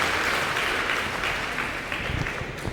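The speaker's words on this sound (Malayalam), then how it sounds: "കൈയടിച്ച് കർത്താവിന് നന്ദി പറയാം." An audience at a Christian talk for a mission hospital in Ernakulam claps together in a steady, even round of applause that holds for a few seconds with no voices.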